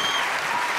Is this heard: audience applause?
yes